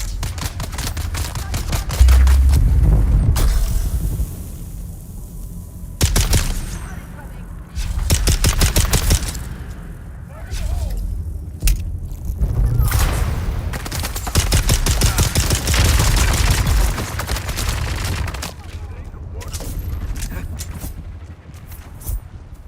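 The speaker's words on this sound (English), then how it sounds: "You guys love your grenades." Gunfire and grenade explosions in Dune Awakening, loud bursts of automatic fire and heavy booming blasts recurring through a chaotic fight, with a voice speaking between them.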